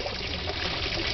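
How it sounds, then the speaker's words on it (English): Water pouring straight down a drain during an equator demonstration at the Inti Ñan solar museum in Ecuador, a steady close rushing trickle with no speech. "The water falls straight down."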